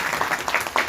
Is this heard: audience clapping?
yes